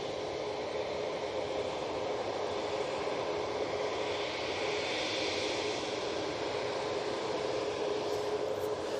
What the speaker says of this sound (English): Next in, we've got the KLM E175 coming in from Amsterdam Schiphol.